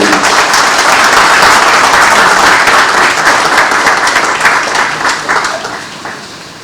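Loud, full applause fills the hall for the governor at the Lagos International Financial Centre Council inauguration, dense clapping that gradually fades toward the end.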